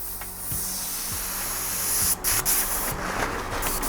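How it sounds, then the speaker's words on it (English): Airbrush being flushed of leftover paint into a cleaning cup, a loud continuous hissing spray with a few brief sputtering breaks near the end. "spray any of the excess out"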